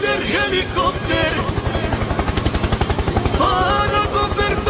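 Helicopter rotor chopping steadily and close by on a busy Indian street, a fast even thump running throughout with bits of crowd noise and voices on top.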